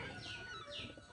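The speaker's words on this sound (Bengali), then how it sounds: "আমাদের গুগু পাখি ডাকে" A wild dove calls twice near a rural yard where ducklings are fed, two faint downward-sliding notes over soft background noise.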